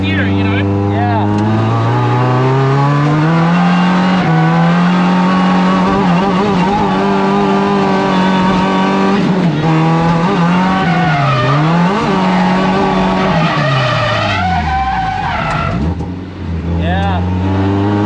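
Toyota AE86 drifting with its engine held high in the revs, steady loud harmonic drone rising and dipping with throttle changes, close to the car, with tire squeal near the end and speech underneath.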